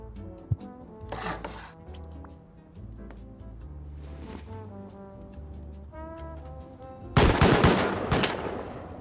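Auto turrets firing in Rust, short bursts of rapid shots scattered over a low humming tonal background, ending in a louder, denser burst near the close.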